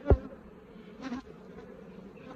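Honey bees buzz around an open hive while a new hive is being set up, giving short, close bursts of buzzing with a quieter drone in between.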